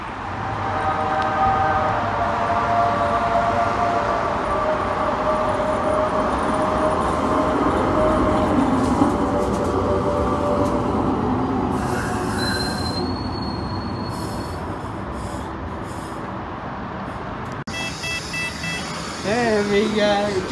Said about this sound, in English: James Glossops Travels on his beloved tram.